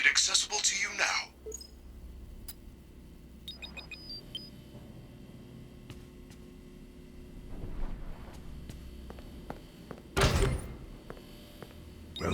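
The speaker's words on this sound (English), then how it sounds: "There is a button on the wall that will open the door to the back room." In the Five Nights at Freddy's: Security Breach video game, the door to the back room opens with a mechanical clunk and rumble, following soft beeps and a quiet hum, with a synthetic voice speaking earlier.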